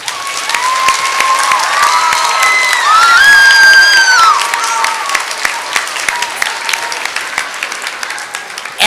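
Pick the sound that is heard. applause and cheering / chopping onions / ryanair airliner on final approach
applause and cheering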